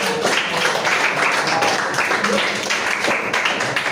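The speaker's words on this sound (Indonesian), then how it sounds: "tepuk tangan dulu untuk Mas Rendra" Students applauding for Mas Rendra in a classroom lesson, a steady dense patter of many hands clapping at once, filling the whole moment without a break.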